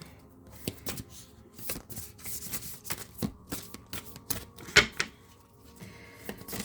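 Tarot cards being shuffled by hand, a busy run of crisp papery riffles and flicks with a sharper slap near the end, close and fairly quiet, with no talking.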